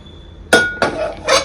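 Dishes clink sharply three times, a few tenths of a second apart, as Iyengar-style puliyogare is served onto a plate in a home kitchen; the metallic and glassy chinks ring close and clear with no talking.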